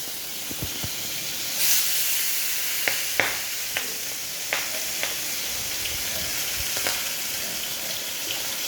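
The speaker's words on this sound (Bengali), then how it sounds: "এবার আমি মাছগুলো আস্তে আস্তে তেলের মধ্যে কাটছি" Fish pieces fry steadily in hot oil, giving a continuous close sizzle and hiss broken by occasional sharper crackles and pops, with no voices.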